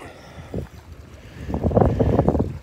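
Swift river current flowing past a boat, a rushing, gurgling wash mixed with wind buffeting on the microphone, growing louder toward the end.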